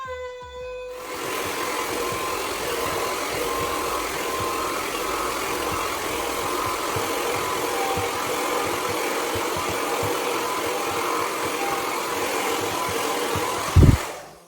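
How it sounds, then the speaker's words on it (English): A Conair Super Bird hair dryer blows continuously at close range, a steady loud whooshing hum that runs unbroken before cutting off near the end. "So let me go ahead and finish blow drying this head of mine"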